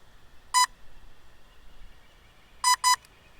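Electronic beeps from a DJI Mavic Air drone sound against quiet background: one short beep, a pause, then two quick beeps in succession, crisp and close.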